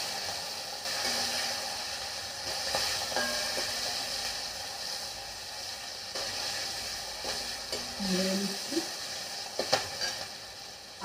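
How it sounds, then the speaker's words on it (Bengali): Chopped vegetables fry lightly in a hot pan, giving a steady close sizzle and hiss with occasional scrapes and clinks of a stirring utensil, and no talking over it. "এরপরে দিয়ে দিচ্ছি হচ্ছে এই যে আমার কেটে রাখা সবজিগুলো, এগুলো একটু ভাজতে হবে আমাকে, হালকা করে ওগুলো ভেজে দিলাম।"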